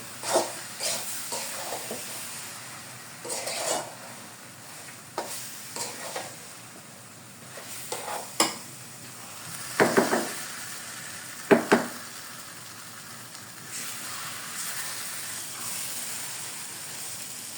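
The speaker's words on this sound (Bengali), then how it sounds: "এখন এটা অনেক ভালোভাবে অনেকক্ষণ ধরে আবার নাড়াচাড়া করে নিতে হবে মশলাগুলো সব গুলা আচারের সাথেই মিশে যাবে" Spiced olive pickle stirred in a pan, soft sizzling with intermittent scraping and clattering strokes of the spoon, some louder knocks along the way, with no talking.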